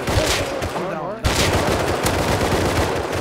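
Rapid automatic gunfire in a shooter video game, loud and close, firing in quick bursts that cut out briefly and then resume in a steady rattle.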